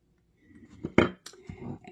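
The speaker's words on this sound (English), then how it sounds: "I'm going to give it a stir" A few soft clinks and scrapes as rotisserie chicken salad with mayo is stirred in a bowl, brief and close against a quiet background.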